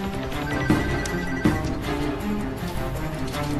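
A telephone bell rings for an incoming call, repeated sharp rings standing out over a dense, loud action-film score.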